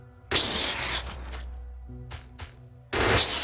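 Gun turrets in the Factorio factory-building game fire at attacking enemies in sustained rapid bursts, loud and close, with short pauses between volleys and no talking.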